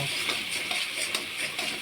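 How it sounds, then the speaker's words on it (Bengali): Quiet, continuous sizzling of ground spices and salt frying in oil in a wok, with faint scraping from stirring running underneath. "গুঁড়ো মশলাগুলো দিয়ে দেবো, নুন দিয়ে দিলাম, দিয়ে মশলাটা ভালো করে কষিয়ে নেব।"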